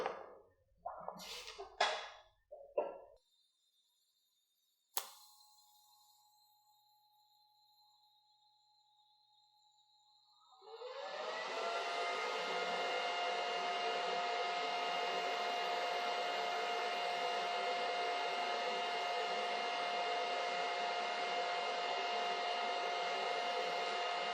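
A TIG welder runs at about 90 amps through a stubby gas-lens torch with roughly 17 CFH of shielding gas on a lay-wire practice weld. Quiet clicks and a sharp arc-start snap come first, then a loud, steady buzzing hiss.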